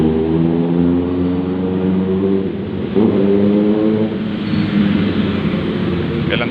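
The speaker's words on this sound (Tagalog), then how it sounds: "Ganda ng motor, oh." A nearby motorcycle engine revs loudly and steadily, its pitch holding and then briefly surging before settling into a continuous drone, with no speech over it.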